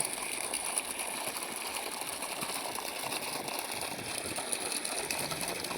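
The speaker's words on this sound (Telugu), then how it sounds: "మోటార్ అయితే పెట్టడం జరిగింది ఇలా పోస్తుంది" A water pump motor hums steadily at night while water pours and splashes continuously from the pipe, close by and even in level, with no talk.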